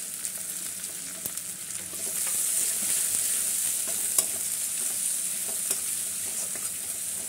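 Chopped garlic and onion frying in hot oil for gravy chilli chicken, a steady close sizzle that swells louder after the first couple of seconds, with occasional light clicks of stirring and no voices.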